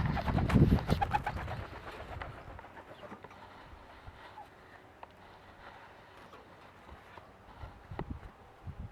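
Pigeons coo in a loft, soft and fairly faint. A burst of fluttering and scuffling comes early, then quieter coos and light clicks follow over low background noise.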